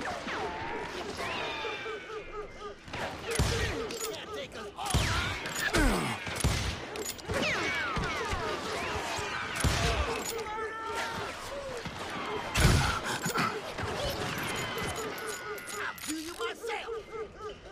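Gunfire crackles through a shootout in Call of Juarez: Gunslinger, with sharp shots and volleys scattered among clanking mechanical sounds, while a voice talks now and then.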